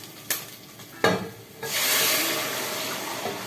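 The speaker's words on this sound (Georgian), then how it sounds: "Ახლა ამას დავასხავ მეადუღებულ წყალს." Freshly boiled water poured into a pot of dumpling ingredients in a home kitchen, with two sharp knocks followed by a steady, close rushing pour that lasts to the end.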